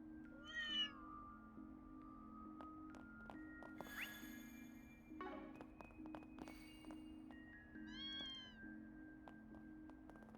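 In Trails Through Daybreak 2, a cat meows several times over a soft looping game music track, with a short call at the start and another near the end, plus light taps and chimes between them.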